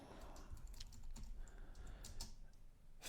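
Steady rapid clicking of keys on a computer keyboard while code is entered in the IntelliJ editor, close and fairly quiet, running continuously with no voices.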